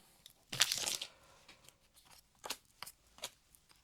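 Scissors snip open Riftbound booster pack wrappers with a loud crisp crinkling cut, followed by several shorter rustling snips and handling sounds, close and without talk.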